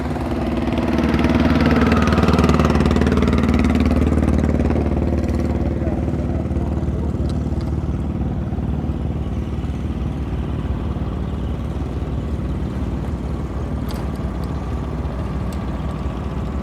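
A boat engine drones loudly and steadily at the Long Xuyen floating market among fruit boats. It runs close and continuous for the whole stretch, rising briefly near the start, with faint voices beneath it.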